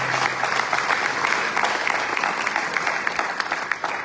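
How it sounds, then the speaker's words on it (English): Sustained applause from a large audience at a Hindu religious gathering during a South African tour, dense clapping filling the hall at steady loudness without a break. "I think he deserves a loud round of applause"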